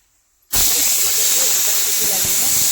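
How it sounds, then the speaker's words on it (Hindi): A kitchen pressure cooker cooking rice lets out a sudden loud, sustained steam whistle hiss that starts abruptly after a moment of quiet and continues steadily up close. "सीटी लग रही है, चावल बन रहे हैं मेरे।"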